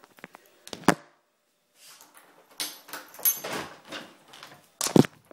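A house door handled and opened while a spider is being caught, with sharp knocks and thunks at the start and end and softer sliding, rattling sounds between, all close by.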